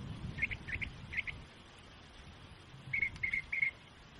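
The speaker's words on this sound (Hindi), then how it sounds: "तभी वहां पर एक चिड़िया उड़कर आई।" A small bird arrives with bright, short chirping calls, first a quick run of paired tweets, then after a pause another cluster of three calls, fairly close over a quiet background.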